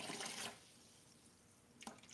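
Water pours and splashes as it is drawn out of a saltwater reef aquarium, a loud gush at first that drops to a soft trickle, then a brief splash near the end.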